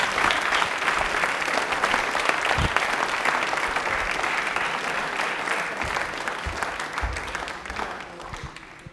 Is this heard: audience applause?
yes